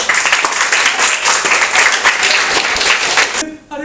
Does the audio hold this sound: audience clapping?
yes